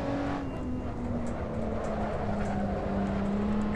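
A race car engine in the Assetto Corsa driving game holds a loud, steady, close drone that shifts pitch slightly as the revs rise and fall, with no voices over it.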